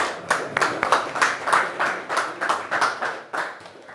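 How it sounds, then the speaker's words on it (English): A small training class claps in a loose, rhythmic burst of roughly a dozen distinct claps, close and moderately loud, keeping an even pace for about four seconds. "Can we clap for him?"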